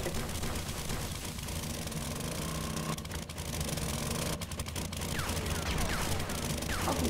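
Gunfire from a 7.62 mm weapon in the survival game 7 Days to Die, with short bursts of rapid shots over a constant rumbling background and no talk.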